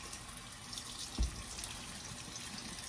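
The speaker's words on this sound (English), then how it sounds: "And just give them a little rinse." Paint brushes are rinsed under a running water tap, a steady close splash and gurgle of water into a sink with one brief knock partway through.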